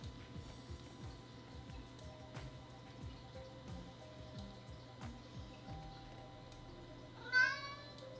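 Cat meowing in the Spore video game: a faint, soft creature call over a busy, clicking game soundtrack, ending with one brief louder chirping cry near the close, no speech.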